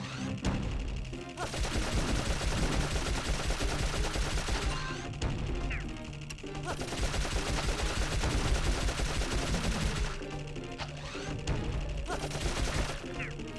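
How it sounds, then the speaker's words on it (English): Sustained machine-gun fire in Dark Cloud comes in long held bursts with a brief pause between them, loud and dense, mixed with game music. "we can just hold down the button. It's a machine gun."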